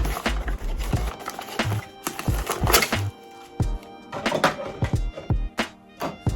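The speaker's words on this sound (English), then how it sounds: "let me open this up. It's taped down pretty good." Cardboard package being opened and taped-down seams ripped free, giving a close run of crackling tears, scrapes and sharp handling thumps with brief pauses, no one talking.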